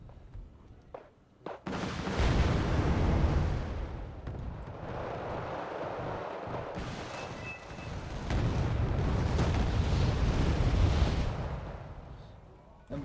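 Heavy bomb blasts and rumbling explosions from the real-time strategy game Wargame Red Dragon, two long loud booming stretches with sharp onsets and sustained roar, amid battle noise.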